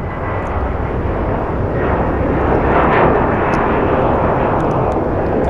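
A car engine roars in the Gran Turismo 7 racing game, a loud, dense, steady drone that swells slightly near the middle and holds throughout with no pauses.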